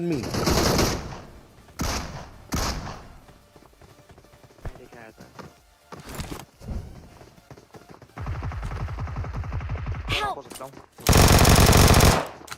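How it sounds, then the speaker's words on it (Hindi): Automatic Vector submachine gun fire in the BGMI battle royale game, loud rapid bursts near the start and a dense, sustained stretch of shots toward the end, mixed with other game sounds and some talk. "भाई वेक्टर क्या ही खतरनाक गन है।"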